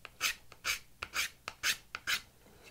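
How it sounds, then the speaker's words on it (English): A card scraper works across a wooden surface while a turning saw is being made, giving six or so crisp, rhythmic rasping strokes, each a short bright scrape with a small click between them, close and without talk. "And then I can always come in with a card scraper"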